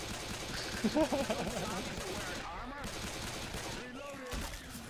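Pistol gunfire in the zombie shooter Left 4 Dead 2, heard as several sharp shots clustered around the first second amid dense, noisy game sound, with voices faintly mixed in.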